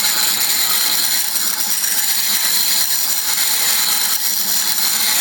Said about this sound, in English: I'm just going to grind the point off on this little grindstone